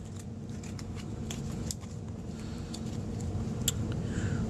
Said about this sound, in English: This is the motion you'll probably want to go through when shuffling your deck.